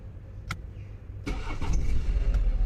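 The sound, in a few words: car engine starting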